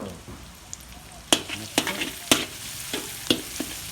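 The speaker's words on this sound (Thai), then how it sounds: "เดี๋ยว เจียวให้หอมก่อนนะครับ" Garlic fries in hot oil in a large wok with a steady sizzle. Several sharp scrapes from stirring cut through it at a regular pace, and no one speaks.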